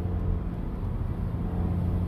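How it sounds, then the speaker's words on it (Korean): A car engine held near 3000 rpm with the pedal about half pressed while climbing a hill, giving a steady, low droning rumble heard from inside the cabin, moderately loud and even throughout. "물론 엔진음이 엄청 크게 느껴지지 않는데 크게 나긴 나요."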